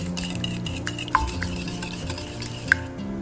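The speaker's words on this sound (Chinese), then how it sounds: "把110克南瓜泥加入到蛋黄里面。 然后搅拌均匀" Pumpkin puree being stirred into egg yolks in a large oil-free bowl, a steady soft scraping and swishing with a couple of sharp clinks of the utensil against the bowl, close and alone.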